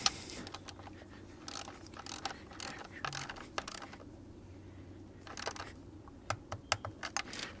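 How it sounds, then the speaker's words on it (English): A torque wrench ratchets on an ignition coil bolt of a Hyundai Tucson 2.0 GDI engine, faint quick clicks in short bursts with small metallic taps and pauses, close and quiet. "Go ahead and grab our torque wrench, torque him back down"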